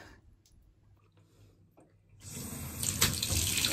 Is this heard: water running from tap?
yes